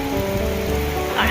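Rain driven by wind falls steadily on a rooftop, a dense continuous hiss of drops with no breaks, close and moderately loud, and no voices.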